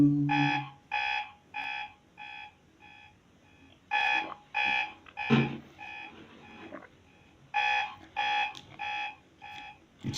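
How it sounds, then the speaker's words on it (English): A loud electronic alarm beeps during a live forex trading stream, firing in repeated bursts of rapid, evenly spaced tones with short gaps between, clear and near with no talk over it. "It should really sound off the alarms here."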